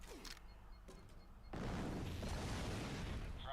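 Grenade blasts from the PS3 demo of the shooter Fracture: after a quiet start with faint ambience, a loud explosive burst hits and a dense rumbling roar of debris sustains to the end, with no talk.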